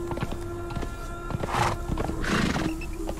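Horse in the video game Conan Exiles during an elephant hunt on horseback: clopping hooves walking steadily with two whinnies rising mid-way, close and fairly loud, over a faint game background.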